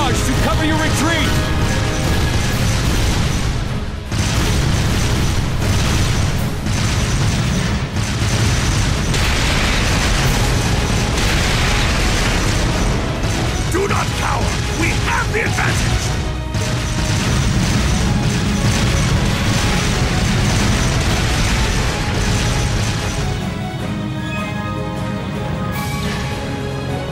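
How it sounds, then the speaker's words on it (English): Artillery barrage in Trails of Cold Steel II, a long, sustained rumble of explosions and crashing impacts with mechanical clatter and a few louder hits, all set against game music. "Left flank, fire a barrage to cover your retreat!"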